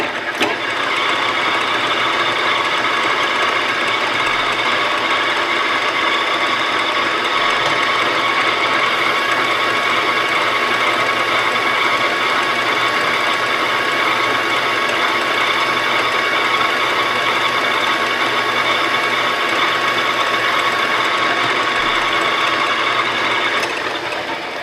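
A metal lathe runs in its high range at 900 RPM, a loud, steady mechanical whir with a faint rhythmic rattle that holds constant and close throughout.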